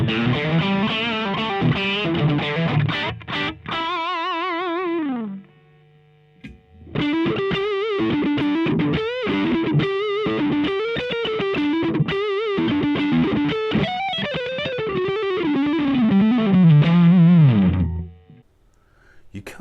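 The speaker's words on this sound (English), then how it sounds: "single coil tones." Clean electric guitar with bright single-coil tone from a Vanquish Mystique Studio Plus, melodic phrases and chords played alone, with a short pause partway through before the playing resumes.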